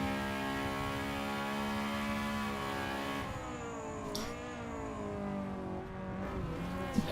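An EG Honda Civic race car runs flat out in the slipstream of another car at Donington Park, its engine droning steadily and then shifting pitch as it brakes and changes gear, loud and close with no talking.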